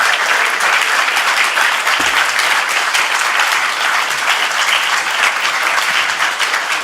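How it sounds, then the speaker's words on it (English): Steady, dense applause fills a city council meeting chamber, a loud sustained clapping from the crowd that holds evenly for several seconds without voices. "Let's give a round of applause to Raul."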